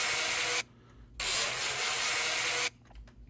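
Golden grinder in a video game grinding rust off a car body, a loud harsh abrasive hiss in two bursts separated by short pauses, close and alone.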